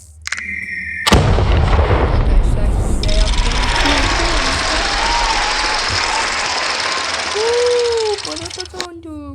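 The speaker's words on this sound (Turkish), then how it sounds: "Şimdi Aa nükleer bomba." A nuclear bomb detonates in a video game: a loud, sustained roaring blast rumbles on for several seconds after a sharp onset, with game sound effects and people talking over it.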